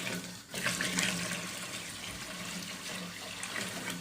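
Water streams steadily into a cooking pot holding masoor dal for haleem, a continuous splashing pour that stays fairly even from start to finish, close by.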